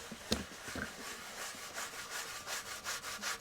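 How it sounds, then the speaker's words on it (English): Grime is scrubbed off a part from a Honda CL175 motorcycle in short repeated back-and-forth strokes, a close, quiet rasping rub in a steady rhythm. "I'm gonna keep scrubbing this."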